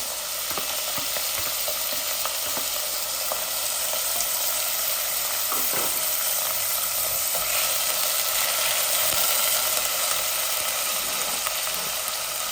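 Onion and garlic frying in oil for a sour fish curry made with fish head and pangas, a steady continuous sizzle with faint stirring scrapes, close and alone without talk.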